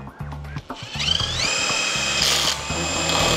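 A Bosch GDR 18V-220C cordless impact driver drives an ordinary screw, opening with a few short stuttering pulses, then a loud, steady, rising whine that holds until the end, close up with no talk.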